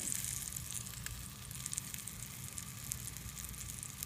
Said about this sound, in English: you want the pan hot so that you get the sizzle up